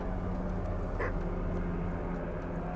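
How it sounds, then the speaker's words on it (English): A helicopter flies over a house, a steady, fairly loud low rumble that holds for the whole stretch without clear peaks. "there is a helicopter going over my house"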